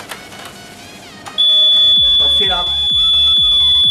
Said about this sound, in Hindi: फिर बीप की आवाज़ आपको सुनाई देगी